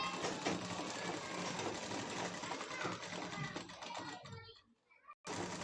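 A sewing machine stitches the neckline of a child's frock, running continuously at close range before it stops briefly near the end.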